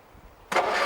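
An old 24-hour race car engine cranks briefly, then catches and bursts into a loud, rough idle close by.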